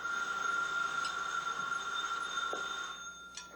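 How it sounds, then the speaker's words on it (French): A telephone rings with a sustained, bright electronic tone holding steady for about three seconds before cutting off, followed by quieter background noise. "Le téléphone sonne et personne ne se précipite?"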